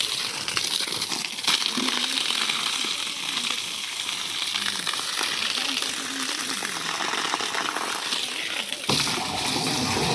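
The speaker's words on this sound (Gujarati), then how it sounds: "ये मोटर चालू हो गई" A running water pump motor sends water gushing out in a loud, steady rushing flow that continues unbroken for about ten seconds, with a short jolt near the end.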